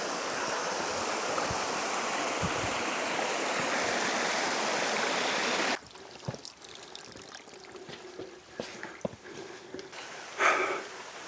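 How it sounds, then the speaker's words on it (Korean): A mountain stream rushes along a rainy trekking trail on Fansipan, Vietnam, with loud, steady flowing water for the first half that cuts off abruptly, leaving quieter rustling and scattered movement sounds. "물소리 들으면서 가니까 그래도 기분이 좋네요"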